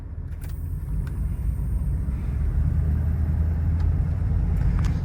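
A 1985 Chevrolet K20 Suburban rumbles low and steady from inside the cab as it pulls away and drives, the engine drone building slightly with a few faint clicks and no talking.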